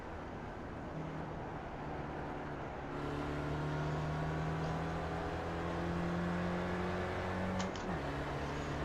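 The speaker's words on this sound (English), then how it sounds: "This engine is just like ridiculously slow." A Spec Racer Ford engine drones steadily in the iRacing sim at Phillip Island, a faint, even whine whose pitch climbs slowly, then drops briefly near the end as the car shifts.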